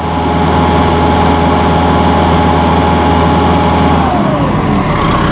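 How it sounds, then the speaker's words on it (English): A heavy engine, likely on a tractor or similar machine, runs loud and steady near the mic, raised to PTO speed, then shifts pitch toward the end as the revs change. "We'll run the RPMs up. PTO speed."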